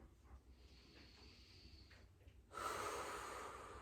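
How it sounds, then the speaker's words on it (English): During a heart-opening yoga flow, a person breathes deeply: a soft, hushed inhale followed by a louder, airy exhale, close and quiet, with no talking. "We're breathing deeply."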